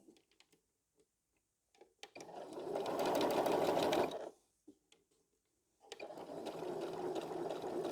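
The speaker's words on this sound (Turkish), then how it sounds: "Bakın tam dibinden dikişimi alıyorum bu şekilde." A sewing machine stitches along a jeans hem in two steady bursts of running motor hum and needle chatter, close and loud. A few clicks and a silent pause separate the bursts.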